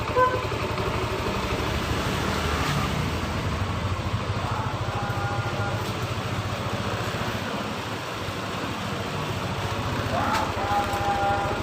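A Yamaha NMax scooter engine idles with a steady, rough rumble and faint rattling from worn camshaft bearings at the cylinder head. There is no talk, and the engine hum continues evenly throughout.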